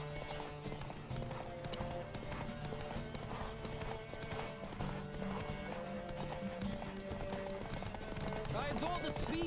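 Horse hooves clip-clopping at a gallop during a race in The Witcher 3, steady rapid hoofbeats with game music, an occasional whinny and a voice talking over it.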